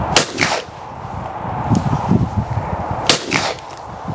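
Shotguns firing during clay shooting, with two sharp outdoor bangs several seconds apart, each followed by a brief echoing tail over a low background murmur.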